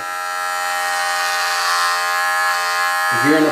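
An electric shaver buzzes in a steady, close, continuous drone throughout, and a voice begins speaking over it right at the end.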